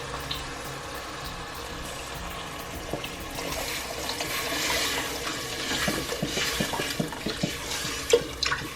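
Chicken broth pours into a pot of sizzling tomato rice, a low hiss that swells into splashing and gurgling with scattered bubbling pops and spoon clinks, close and moderately loud, without speech.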